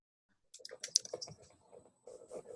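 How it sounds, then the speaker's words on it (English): Faint, close computer keyboard typing, a quick irregular run of soft key clicks, then a short pause and a few more taps. "As I'm writing, hear me typing it."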